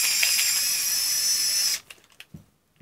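A SKIL powered screwdriver with circuit sensor technology spins with a steady high-pitched whirring motor for under two seconds, then stops, followed by a few soft clicks and handling knocks.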